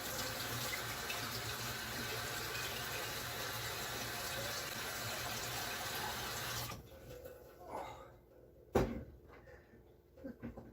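Water runs from a kitchen tap into a hot pot for jambalaya, a steady close hiss for several seconds before it cuts off, followed by quiet clatter and a sharp knock.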